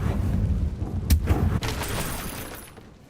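In the Hogwarts Legacy video game, a fiery Confringo spell blast erupts as a loud, rumbling explosive burst with sharp cracks layered over sustained booming, then tails off over a few seconds.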